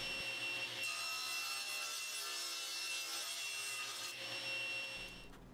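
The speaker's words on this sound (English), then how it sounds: "start to cut each one of them down into strips" A table saw with a crosscut sled rips wood panels into strips, a sustained whining cut that rises at about a second and holds steady, close and loud, then drops away near the end.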